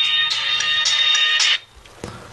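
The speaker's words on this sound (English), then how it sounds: "Hold on, my phone's ringing." A phone ringtone chirps in quick repeating bursts for about a second and a half, then stops, followed by a faint click.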